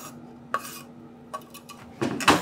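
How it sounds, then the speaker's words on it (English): Knife slicing spring onions on a cutting board, a few sharp isolated chops early on followed by a denser burst of quick cuts at the end over a quiet kitchen hum, with no speech. "some spring onions, which I'm just gonna slice up"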